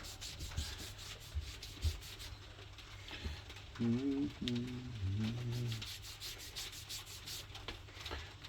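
A dauber rubs dark brown dye onto a veg tan leather belt: quiet, close, rhythmic scrubbing strokes with soft scratchy texture, including a few short squeaks partway through.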